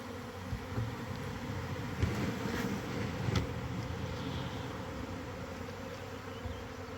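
A swarm of bees clustered on a tree branch buzzes steadily and densely throughout, a continuous close hum with no voices.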